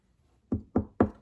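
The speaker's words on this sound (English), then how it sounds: "Knock on that ruler." Three sharp knocks on a ruler follow a short silence, evenly spaced, close and crisp, with nothing else heard.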